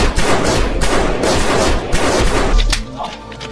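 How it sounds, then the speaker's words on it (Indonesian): Rapid bursts of gunfire in a film, several loud sharp shots fired in quick succession before fading into a quieter tail. "John dan Rio memutuskan untuk menghabisi Anton dengan cara ditembak."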